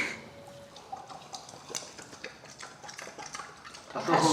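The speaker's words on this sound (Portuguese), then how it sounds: "É um porco tomando água." A pig drinking water, with wet lapping, dripping and clinking sounds in an irregular rhythm that swell louder near the end; voices can be heard faintly in the background.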